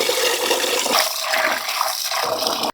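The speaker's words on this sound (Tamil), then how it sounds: "அரிசி 4-5 தடவை நல்லா கழுவிட்டு உலை ஊற்றி வைக்கிறேங்க." Ration raw rice being washed in water, a steady continuous wash of splashing and running liquid that stays loud throughout before cutting off abruptly at the end.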